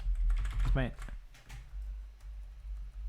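Computer keyboard keys being pressed during a Minecraft speedrun session, a few quick clicks under a voice talking.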